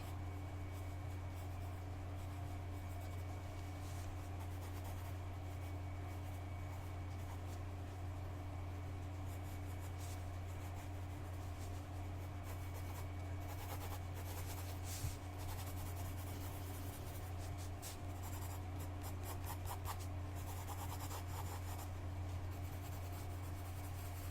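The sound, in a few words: pen sketching a tattoo design on paper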